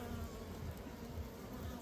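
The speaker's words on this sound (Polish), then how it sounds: "Pszczoły trochę latają" Honey bees buzz in flight, a soft continuous droning hum with several insects overlapping, fairly quiet and with no one speaking.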